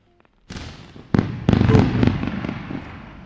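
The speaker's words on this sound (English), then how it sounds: "First round of fireworks today." A fireworks sound effect plays during a live trading stream: a loud burst of bangs and booms that rolls into sustained crackling and popping, close and dense, with no talking.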